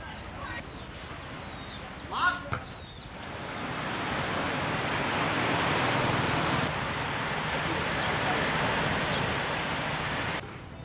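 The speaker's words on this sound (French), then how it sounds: "les vagues tapaient fort et certaines passaient au-dessus du bateau" Rough sea off Cambodia pounds against a small boat, a steady roaring wash of waves and spray that swells and holds loud after a couple of brief knocks, with a voice briefly audible early on.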